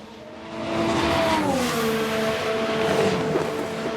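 A Formula 1 car in the F1 Manager 22 racing game, shown in a crash replay: a loud, close engine swells and revs steadily for a few seconds, then its pitch shifts downward, alone without talk.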